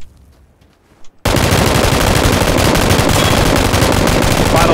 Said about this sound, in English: you were shooting the 249, weren't you?